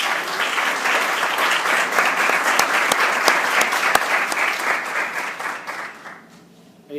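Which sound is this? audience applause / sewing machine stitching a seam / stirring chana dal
audience applause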